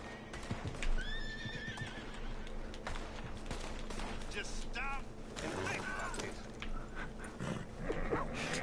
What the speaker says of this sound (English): that horse is freaking out